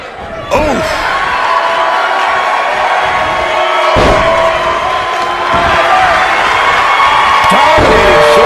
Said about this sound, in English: Dominated shoulder tackle.